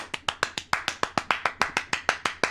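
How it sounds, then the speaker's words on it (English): A single person claps in a steady, even rhythm of about fifteen sharp claps, close and fairly loud, with no talking over them. "But, yeah, like, the normal clap."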